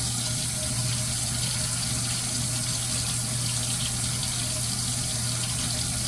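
Water runs steadily from a tap to wet a shaving brush at a sink, a continuous, fairly loud hiss and splash that holds for several seconds with no talking.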